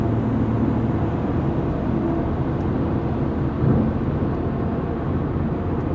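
Inside a BMW M3 CS at highway speed, a constant broadband roar of road and wind noise fills the cabin at a steady level, with no one speaking.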